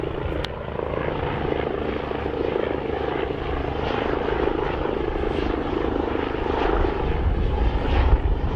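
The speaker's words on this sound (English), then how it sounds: "the A109 landing on" An AgustaWestland A109 helicopter landing at an air show, its steady whining turbine and rotor drone loud and continuous, with a gentle rise in intensity toward the end.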